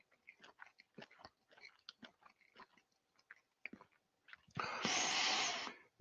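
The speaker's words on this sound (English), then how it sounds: "It takes quite a bit to chew one of these up." Nagami kumquat chewed with the mouth close to the mic, giving a run of wet, crunchy bites and mastication clicks that ends in a louder, sustained rustling noise. No talking.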